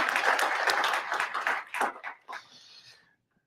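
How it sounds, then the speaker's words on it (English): Applause from an audience at a hackathon morning session, a dense burst of many hands clapping that thins out and fades to silence after about three seconds. "I'd like to give a round of applause to MITRE for helping host us and bring this together."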